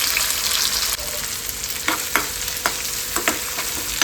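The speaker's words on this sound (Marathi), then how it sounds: "चला आता आपण ह्याच्यामध्ये टाकू कांदा." Chopped onion sizzles loudly in hot oil in a pan for a home-cooked vegetable dish, with a steady frying hiss and a few soft scrapes from the spoon as it is stirred, close and with no talk.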